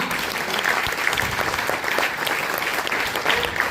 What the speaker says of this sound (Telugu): అలా ఒక్కసారి గట్టిగా క్లాప్ ఇద్దామా?